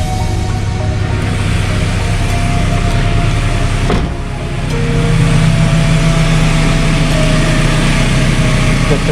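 A 1999 Toyota Tacoma with a swapped-in JDM 3RZ engine idles steadily and fairly loud, with a smooth, even hum and a brief dip partway through.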